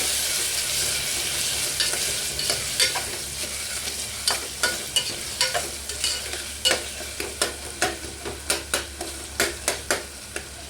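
Ginger garlic paste frying in a pan of tomato rice, a steady close sizzle with regular scraping stirs of a spatula repeating every half second or so, no voices.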